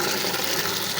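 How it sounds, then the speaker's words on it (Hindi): Water gushes steadily into a bucket for a goat's saltwater treatment, an even, continuous pouring rush with no pauses. "इसमें भी पानी फिल करें"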